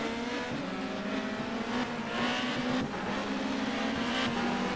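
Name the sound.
touring cars racing at Oran Park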